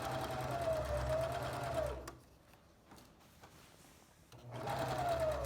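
Sewing machine stitching a pillowcase, a steady loud motor whir that runs for about two seconds, stops for a quiet pause, then starts up again near the end.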